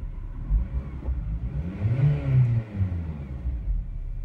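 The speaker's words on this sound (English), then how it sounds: "so there you can see the revs are rising." A Honda Civic Type R (EP3) engine revving up, the pitch climbing and falling as the revs rise, heard close and alone with no talking, during a test drive.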